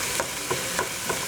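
Ground hamburger meat for moose chili fries in a pan with a constant loud sizzle while a spatula scrapes and chops at it in a steady rhythm of roughly three strokes a second.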